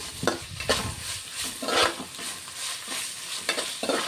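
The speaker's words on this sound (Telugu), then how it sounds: "ఇప్పుడైతే ఇదైతే మంచిగా ఫ్రై అయిపోతుంది" Ginger garlic paste and mint fry in hot oil for bagara rice, giving a steady sizzle broken by repeated scraping stir strokes of a spoon in the pan, close and fairly loud.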